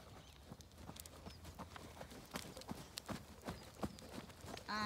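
Horse trotting on a riding-school arena surface during a lead-rein showing class, hooves striking in a steady, even two-beat clip-clop, close and clear, with light background noise and no talk.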